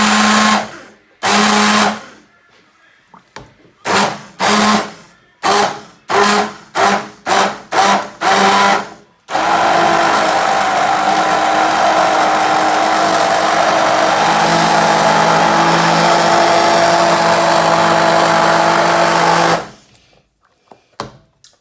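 Pea and ham soup is blitzed in a blender, opening with a string of short on-off pulses, then a long steady loud whirring run of about ten seconds before it cuts out.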